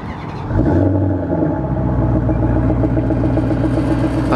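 A stock Maserati car engine starts and settles into a steady, deep idle rumble, close by and fairly loud, with no talking.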